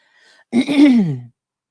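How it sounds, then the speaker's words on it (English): A single throat clearing, close and fairly loud, a rough guttural rasp lasting under a second, preceded by a faint breath and followed by silence. "I am so sorry that I'm clearing my throat"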